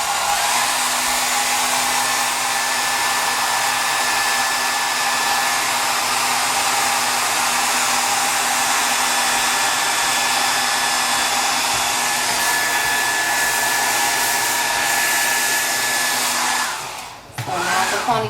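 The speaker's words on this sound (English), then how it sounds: "you can just simply just blow dry the part that you sprayed the spritz on." A handheld hair dryer blows steadily on hair being dried smooth for a neat ponytail, a loud, close, unbroken roar that cuts off abruptly near the end.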